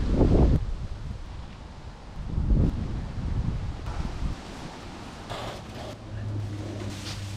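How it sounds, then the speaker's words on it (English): Gusty autumn wind sweeps through an English back garden on an October morning, with rustling leaves and microphone buffeting, loud surges near the start and middle easing to a steady breezy rush. "First big winds of the autumn."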